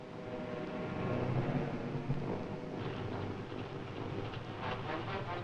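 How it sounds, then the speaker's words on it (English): Storm wind at sea during the Normandy invasion, a low continuous rushing roar with gusty swells and broadband noise, distant and fairly faint, with no voices. "A heavy storm left a trail of damaged ships."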